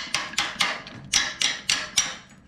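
A makeshift tool that is not a hammer strikes a boat trailer coupler in a series of about seven sharp metallic blows, each ringing briefly, spaced unevenly and close, with no talk.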